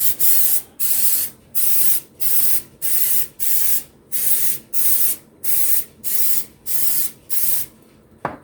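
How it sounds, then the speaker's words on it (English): Cooking spray hisses out in about a dozen short, even bursts with brief pauses between, close and loud, onto silicone muffin liners, ending with a small clack. "even though they're silicone, I like to spray them"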